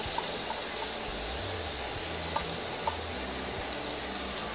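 Water running into a cooking pot for jeera rice, a steady hissing splash with low gurgling, close and continuous, with a few faint clinks.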